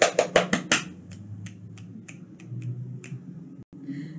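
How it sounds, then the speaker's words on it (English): Children clap and snap their fingers in a group, seven sharp, loud beats in quick succession, then a few fainter scattered snaps trail off over low room murmur. "clap and snap 7 times"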